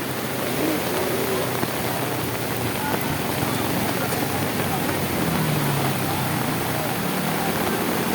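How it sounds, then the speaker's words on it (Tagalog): Heavy rain from Typhoon Carina pours down at the Tullahan River, a dense, steady hiss and roar that fills the whole clip at constant loudness. "Malakas na yung ulan ulit."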